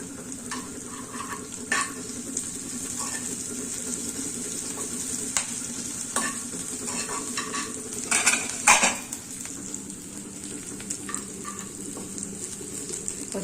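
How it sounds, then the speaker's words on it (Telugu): Curry leaves fry and sizzle in hot oil in a pan, a steady close crackle with occasional stirring and spoon scrapes against the metal, briefly louder near the end, with no voices. "కరేపాకు బాగా ఎరిగిపోయినండి"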